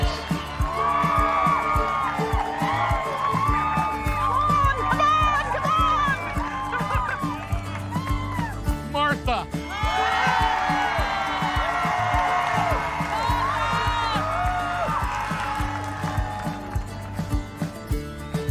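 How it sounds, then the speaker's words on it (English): A live audience at an ugliest dog contest cheers and whoops loudly for a finalist on stage, a sustained roar of voices over steady background music, with a second surge of cheering partway through. "we will ask the audience to help us by cheering just as loud as you can"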